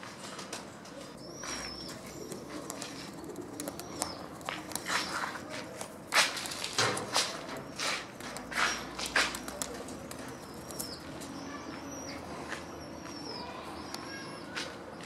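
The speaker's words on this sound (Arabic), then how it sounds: "هاوليك الطير العراقي ومازال يطير." Iraqi pigeon outdoors in cold weather, with faint wing flaps and soft bird sounds over steady background noise, plus some scuffling footsteps.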